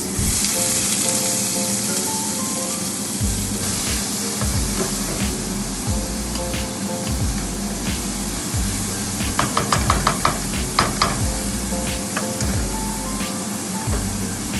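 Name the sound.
onions frying in a pot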